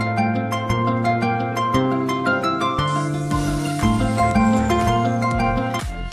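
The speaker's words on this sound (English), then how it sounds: "Good job, it's LG." An LG mobile phone ringtone plays: a steady, tuneful electronic melody over sustained bass notes, continuous and prominent with no talking.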